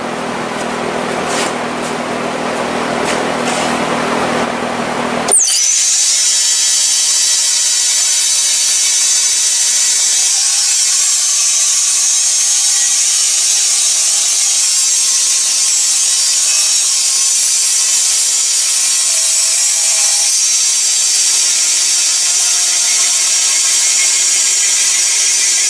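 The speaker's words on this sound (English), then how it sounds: "So I thought I'd show you how a resaw is done. Got my bandsaw set up, got the blade set, and here we go." A bandsaw runs steadily as it resaws a wood board, giving a continuous loud whirring hiss at close range, with a sharper cutting texture for the first few seconds before the tone settles.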